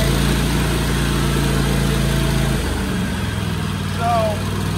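A Cub Cadet lawn mower's Kohler engine, with the choke fully engaged, rumbling at a steady low idle close by, then dropping and shifting pitch as it settles into running; a brief whistling squeak appears near the end.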